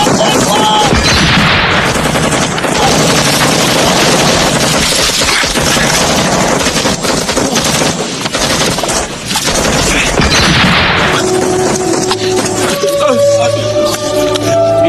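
Gunfire in a wartime village where a soldier is shot, dense bursts of machine-gun and rifle fire with booms rattling continuously at close range, with voices mixed in toward the end.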